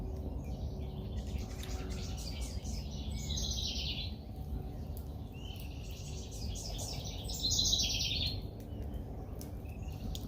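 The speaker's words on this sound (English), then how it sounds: "Birds are singing this morning." Birds sing and chirp in repeated bursts in the morning outdoors, moderately distant over a steady low background rumble, with no talking.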